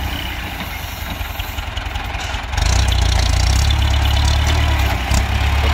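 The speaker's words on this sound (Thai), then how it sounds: "รถไถฟอร์ดนี่จะถอยอยู่2ยางครับ" A Ford tractor engine runs steadily at close range, a low, rough idle that swells louder and heavier partway through and keeps droning to the end.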